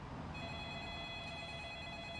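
A telephone rings in a scene from the horror film The Ring, a steady electronic ring with sustained tones, moderately faint over a dense low rumble and background noise, with no voices.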